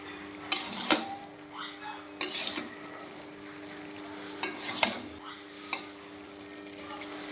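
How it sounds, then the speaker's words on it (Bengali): Cabbage is stirred and fried in a pan for a vegetarian dish, giving a few sharp scraping and clinking spatula strokes against the pan over a faint low hiss. "এই যে বাঁধাকপিটা এই অবস্থায় খুব ভালো করে নাড়িয়ে কষাবেন।"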